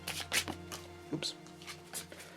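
Marvel Champions cards riffled and bridged by hand in a few quick bursts, close and fairly quiet, with a voice talking softly underneath.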